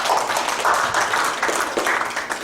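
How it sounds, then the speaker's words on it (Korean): Applause from an audience at an academic society's annual general meeting, a dense steady wash of many hands clapping continuously at fairly close range with no break. "큰 박수 한번 드리겠습니다"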